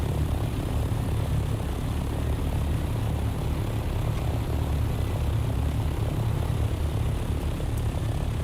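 Steady, loud droning engine hum of an aircraft in flight in the video game Dune Awakening, continuous and unchanging throughout with no talk.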